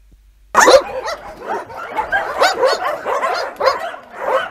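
A dog barks repeatedly at close range, a rapid run of sharp barks and yips starting after a brief silence.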